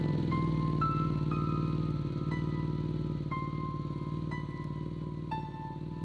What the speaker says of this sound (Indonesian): Motor pun mulai memasuki kampung yang menuju rumah Pak Imron.